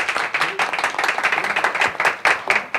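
A small audience at an office award ceremony claps in uneven bursts of individual hand claps, close and fairly loud, with some voices mixed in.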